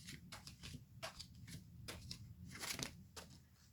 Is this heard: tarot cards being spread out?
yes